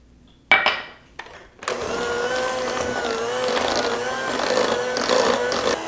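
An electric mixer beats eggs into silky cream cheese for a New York style cheesecake. A couple of knocks come first, then a loud, steady whirring motor drone runs through the rest.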